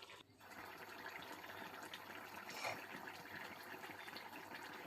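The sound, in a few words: water poured into pan of fried bamboo shoots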